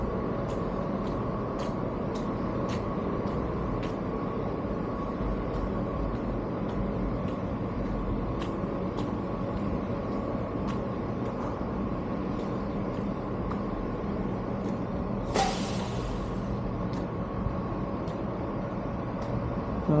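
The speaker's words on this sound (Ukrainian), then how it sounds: "Приїжджає автобус на цю зупинку." A city bus on El Camino Real in Silicon Valley pulls up to a stop with a long, steady engine rumble and rolling noise. A sharp hiss of air brakes near the end and faint repeated clicks run throughout.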